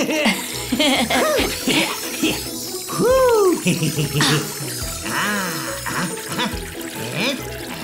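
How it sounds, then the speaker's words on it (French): A plant being watered in a cartoon scene, with splashing and pouring water sounds running steadily throughout, mixed with bright cartoon voices and playful vocal sounds layered on top. "Et maintenant, on va arroser la plante."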